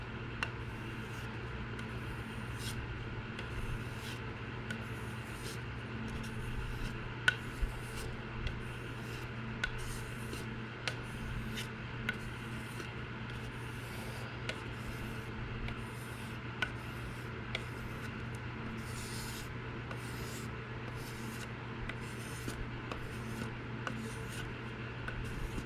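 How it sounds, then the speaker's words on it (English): Spyderco Salt Leaf knife with an LC200N blade is stropped in a long run of light, regular rubbing strokes, soft and close, with faint ticks marking each pass and no talking. "Just gonna do a few more strops."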